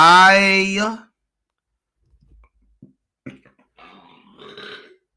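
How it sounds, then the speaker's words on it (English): A person lets out a single loud, drawn-out belch close to the microphone on a podcast recording, followed by faint clicks and soft rustling. "excuse me, I just belched."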